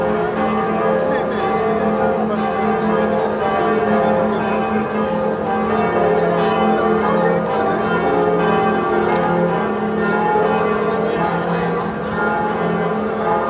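Several church bells in Munich ring together continuously with overlapping tones, loud and dense, clanging without a clear pattern and no pause.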